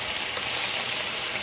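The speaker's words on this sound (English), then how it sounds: "So you can see it's nice and sizzling." Seafood sizzles steadily in a hot frying pan for a seafood pesto, a dense, even hiss of frying oil close up with no pauses and no voices.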